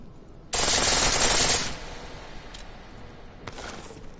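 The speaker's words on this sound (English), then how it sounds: "The pistol in full auto will take down targets fast, but it'll burn through your ammo." Pistol firing on full auto in the video game Deus Ex: Mankind Divided, a loud one-second burst of rapid shots followed by a quieter lingering tail and a brief second burst near the end.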